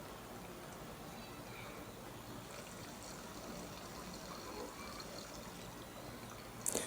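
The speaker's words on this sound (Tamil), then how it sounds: "இப்போ புளி தண்ணியை சேர்த்துக்கலாம்." Tamarind water being poured into a pot of fish curry, a soft continuous splashing stream, faint and steady throughout.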